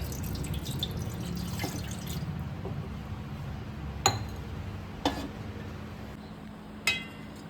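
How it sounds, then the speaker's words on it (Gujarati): One glass of water pours steadily into a pot for steaming dudhi muthiya, with a soft rushing hiss, broken by a few sharp clinks of metal. "એમાં આપણે 1 ગ્લાસ પાણી ઉમેરી દઈશું."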